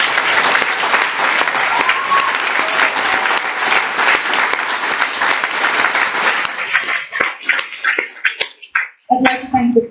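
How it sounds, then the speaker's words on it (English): Closing ceremony audience breaking into loud sustained applause, a thick wash of many hands that thins out into scattered claps toward the end as a voice starts speaking. "So a round of applause to all of you."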